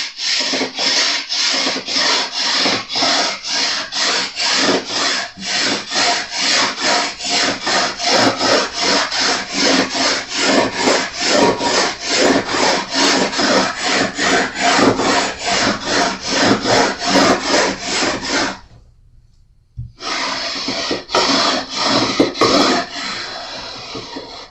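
Abrasive fret leveling on a Jazz Bass neck, a rapid back-and-forth rasping of sanding strokes, loud and close, running steadily for about eighteen seconds before a brief pause and a few more strokes, with no speech.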